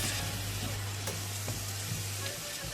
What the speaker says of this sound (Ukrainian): підсмажуємо на оливковій олії, додаємо сухий чесник, цибульку, промитий рис